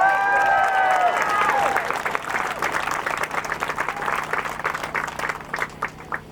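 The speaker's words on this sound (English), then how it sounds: "Can we give them a round of applause?" A crowd claps steadily, with dense applause that stays loud and fairly even before thinning slightly toward the end.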